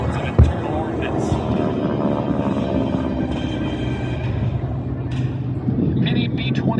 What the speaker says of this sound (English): The North American B-25 Mitchell was an American.